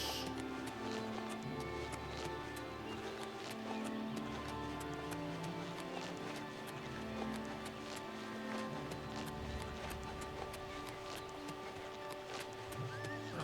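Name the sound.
horse hooves and whinny in video game Oblivion Remastered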